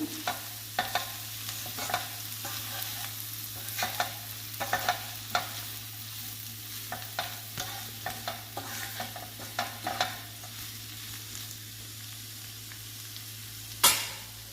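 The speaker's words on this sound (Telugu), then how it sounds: "కొత్తిమీర కర్రీ కలుపుకుందాము" Cluster bean curry with chopped coriander being stirred in a pan: intermittent close scrapes and soft clinks of a spoon against metal over a low simmer, ending in one sharper clank.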